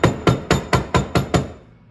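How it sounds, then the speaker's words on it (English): Six evenly spaced hammer blows drive a Club Car bushing into place on an anvil. They ring out loud and close at a quick steady rhythm, and each strike leaves a short metallic decay before the sound fades out. "I'll usually just put it on the anvil here"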